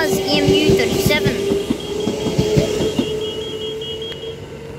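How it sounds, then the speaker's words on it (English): Armadale-to-Perth express train passing through Welshpool station, a steady rumble with rhythmic wheel clacks over rail joints, close and loud, with a level crossing bell ringing and a voice talking over it. "About to pass, we have the express to Perth from Armadale."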